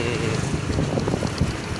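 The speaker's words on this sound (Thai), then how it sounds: "มันจะมีเสียงลมนิดนึงนะครับ" Gusty wind buffets a microphone outdoors at Tha Chalom, a waterfront town, giving a steady, rough rumble with uneven low thumps throughout and no clear voices.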